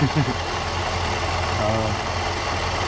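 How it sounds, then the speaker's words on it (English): A supercharged BMW V8 engine runs steadily at a low idle, with a brief rise in pitch partway through as the throttle is floored before settling back down; some faint talk in the background. "it revs right up. That was putting the gas pedal to the floor, and it returns to idle with no problem."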